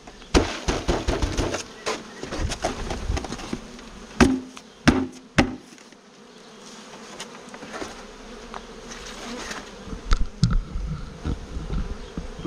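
Honey bees being shaken off a hive frame from a six-frame nucleus box, a steady, dense buzzing broken by several sharp knocks and thumps as the frame is jolted.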